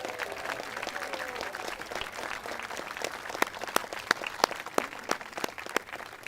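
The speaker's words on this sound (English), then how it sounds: "Let's give them and Director Frank Hinojos a big round of applause." Applause for a city band and its director at a Veterans Day ceremony, a fairly distant crowd clapping steadily, with a few sharper individual claps standing out toward the end.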